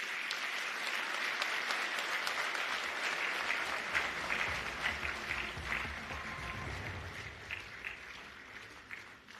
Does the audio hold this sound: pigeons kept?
no